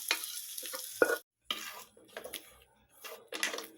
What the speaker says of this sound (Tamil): இதை நல்லா கலந்து விட்டுறலாம்